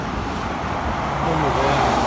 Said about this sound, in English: traffic's pretty close right here